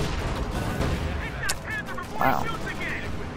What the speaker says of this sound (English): Two great shots on the frontal armor